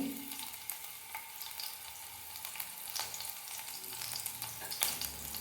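Green chillies frying in a little oil in a pan, a steady close crackling sizzle with scattered pops and light stirring scrapes throughout, no voices.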